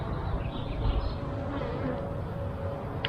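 Honeybee foragers at a small urban beehive make a steady, close, continuous buzzing hum that holds evenly throughout, with no talking.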